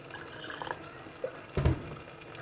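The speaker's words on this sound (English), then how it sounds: "while we put water in our jar." Water poured in small amounts into a jar for a spaghetti bolognese sauce, heard as soft drips and trickles ending in one brief louder splash near the end, close by and otherwise quiet.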